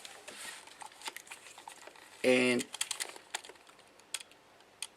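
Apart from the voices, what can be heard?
Mamiya RZ67 Pro II camera shutter release click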